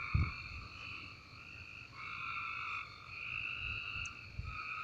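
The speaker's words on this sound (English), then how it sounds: "there are a bunch of frogs croaking" A large chorus of frogs croaks steadily at night in a warm late evening, layered high-pitched calls forming a continuous, moderately loud background with a few low thumps near the start and no talking.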